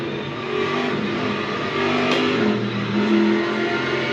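An Aston Martin GT3 race car in the racing game Le Mans Ultimate drones loudly and steadily, engine pitch holding and swelling slightly as it accelerates, alone with no talk.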